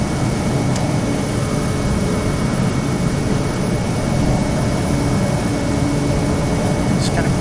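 Engine of a Kodiak 100 single-engine turboprop in Microsoft Flight Simulator during takeoff, a steady, loud broadband drone held at constant level throughout with no talk over it.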